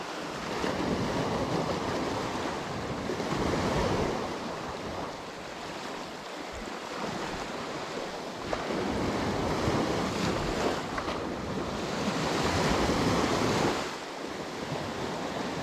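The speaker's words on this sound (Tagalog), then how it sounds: "Oh, napakalaki ngayon ng tubig." Big ocean waves break and wash in continuously at the shore in Jomalig, with strong wind buffeting the microphone and the surf swelling and easing in long surges.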